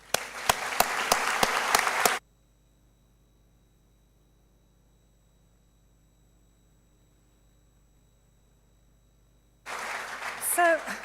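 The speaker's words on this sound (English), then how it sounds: "So please do give yourselves a round of applause" A graduation ceremony audience gives a brief burst of loud applause that cuts off after about two seconds into near silence, with sound returning only near the end.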